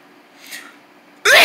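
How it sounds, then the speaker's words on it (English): A single abrupt, loud sneeze bursts in near the end after a quiet stretch with a faint breathy sound, close to the listener. "I don't know why I sneezed."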